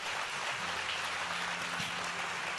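A church congregation claps at a sermon, a fairly quiet, even wash of applause from many hands, with a low organ or keyboard tone sustained underneath.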